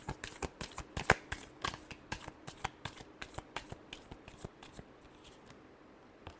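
Tarot cards are shuffled by hand up close, giving a quick series of crisp riffling flicks that thin out toward the end, with no talking over them.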